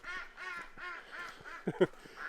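Farm ducks quack cheerfully in a quick series of nasal calls close by, ending with a couple of louder, sharper quacks, with no talk.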